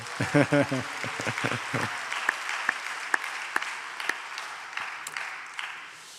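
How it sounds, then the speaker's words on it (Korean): Church congregation clapping in a Korean worship service, a burst of applause that fades quickly while a voice talks over it, leaving a few scattered claps. "10교구 힘내라고 박수 한번 보내주세요"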